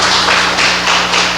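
Church congregation clapping together during a Portuguese-language evening worship service, a loud, dense wash of hands sustained throughout with slight swells, no talking over it.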